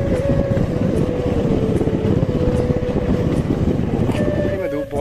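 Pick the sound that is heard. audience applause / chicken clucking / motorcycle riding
motorcycle riding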